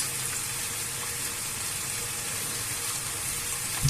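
Steady sizzle of sauce hitting a hot pan of vegetable pasta, a continuous broadband hiss of frying held at an even level throughout with no voices.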